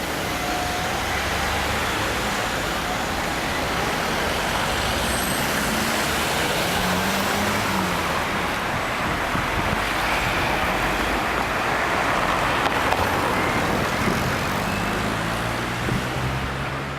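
Steady morning road traffic with a queue of cars idling and creeping along on a hill road during the school run, a continuous broadband engine and tyre rumble with occasional heavier vehicle tones, no voices.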